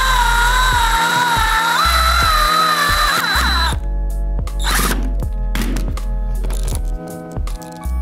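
A power drill drives screws into a wooden deadlift platform in a garage, with repeated ratcheting, clicking bursts and brief stops between runs, close and fairly loud.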